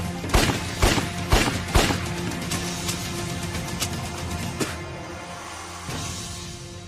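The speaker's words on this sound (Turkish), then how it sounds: "Nereden geliyor lan bu silah sesleri?" Gunfire bursts in a dramatic scene: four strong shots in quick succession, followed by a scattering of fainter, more distant pops fading over several seconds.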